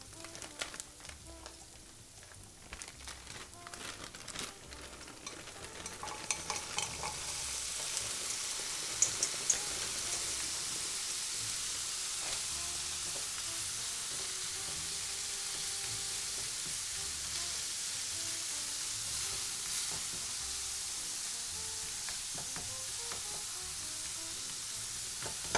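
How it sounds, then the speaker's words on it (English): Frozen carrots and peas are added to hot oil in a pan and build into a loud, steady sizzle that continues for a long stretch, close by and with no talk. "Seeing that my carrots and peas are frozen, I'm going to add it now to the oil."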